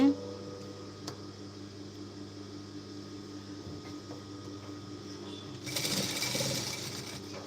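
Sewing machine stitching a blouse at home; a steady low mechanical hum runs throughout, with a brief louder whirring burst near the end, and no talk over it.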